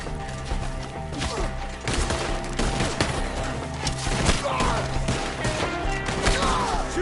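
Gunfire rattles through a firefight in Red Dead Redemption 2, with repeated shots, thuds and impacts layered in a busy, loud, continuous battle scene.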